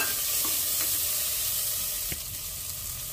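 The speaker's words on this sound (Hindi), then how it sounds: "इसमें कटे हुए प्याज डाल देंगे, उसको भी थोड़ा सा भून लेंगे" Chopped onions fry in a pan for a masala aloo baingan, giving a close, steady sizzle. A few light stirring scrapes and one clack break through it, and no voices are present.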